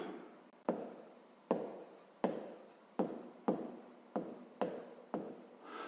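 A pen writing by hand on paper while working a fifth-grade math exercise, a series of about nine crisp strokes and taps at a regular, unhurried pace, close and alone.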